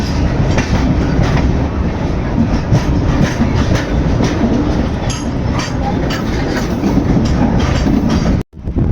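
Aboard the Andaman Express passenger train, a loud, steady rumble of wheels on rails fills the carriage with faint clicking joints, broken by a brief drop near the end.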